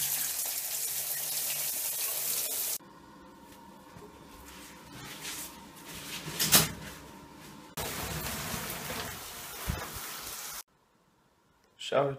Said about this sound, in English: Let's go take a shower.